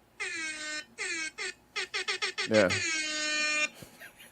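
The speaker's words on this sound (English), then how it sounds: "Just a fucking air horn app" An air horn app blasts in a rapid series of short honks, then one long sustained blare, loud and tinny like a phone speaker; a voice briefly speaks.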